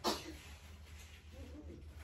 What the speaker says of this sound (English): That's your baby brother that sneezed.